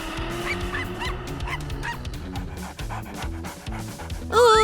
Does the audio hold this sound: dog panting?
yes